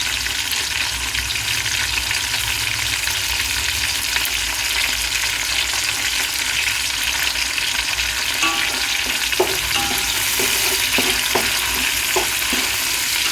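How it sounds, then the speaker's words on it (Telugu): A large pot of pulav mixed with a handful of coriander fries with a loud, constant sizzle, and scraping stirs and spoon clinks grow more frequent toward the end. "ఈ మిశ్రమాన్ని బాగా వేయించాలి."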